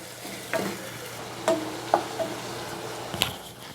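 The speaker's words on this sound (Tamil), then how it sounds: "எண்ணெய் தெளிகிற அளவுக்கு இதை வதக்கிக்கோங்க" Tomatoes sauté in oil with ginger and garlic in a pan, a low steady sizzle broken by a few sharp scrapes and clinks of a spoon stirring, close and quiet.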